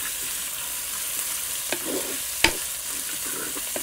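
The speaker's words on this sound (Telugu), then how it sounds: "కోసి పెట్టుకున్న ఒకే ఒక ఉల్లిపాయ ముక్కలు వేసుకుని బాగా వేయించుకుందాం." Onion pieces fry in a pan for South Indian tiffin sambar while a spoon stirs them now and then, giving a soft steady sizzle with a few scraping knocks.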